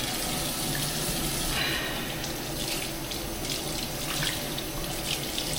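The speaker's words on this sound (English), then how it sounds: "now this is where I wash my face with hot water." Hot water pouring from a bathroom sink tap for face washing, a steady close splash and hiss with slight fluctuations as hands move through the stream, no talking.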